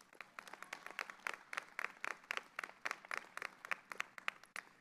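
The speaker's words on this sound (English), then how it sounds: "Give yourselves a round of applause for that." New university students at a convocation clap in a light, scattered round of applause, the individual claps distinct and fairly close, pulsing irregularly and quietly throughout.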